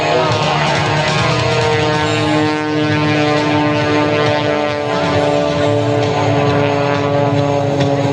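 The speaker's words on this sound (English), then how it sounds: "Keep your eyes on Skip Stuart and Prometheus right on takeoff into knife-edge flight." A propeller aerobatic airplane taking off into knife-edge flight at an air show in Fort Smith, its engine drone steady and loud with strong harmonic whine, continuous throughout.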